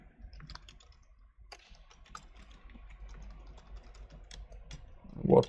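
Computer keyboard keys clatter in quick irregular bursts as text is typed into Microsoft Excel 2016, close and fairly quiet, ending with a louder thump.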